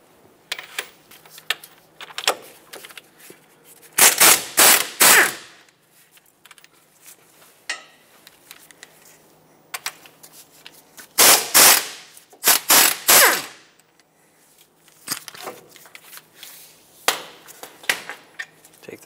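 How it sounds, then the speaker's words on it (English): A ratchet drives a 17 mm socket on the front brake caliper bracket bolts of a 2014–2021 Mazda 6. It comes in loud, rapid clicking bursts, two main runs with lighter taps between them, close up and with no talk. "use a 17 millimeter socket, take these two bolts out"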